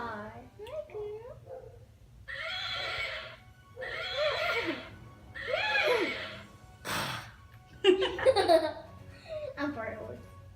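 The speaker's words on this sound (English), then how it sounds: "I have my pet horse, Pink Star." Horse neighing and whinnying in several bursts, fairly close, with short pauses between calls and some breathy snorts.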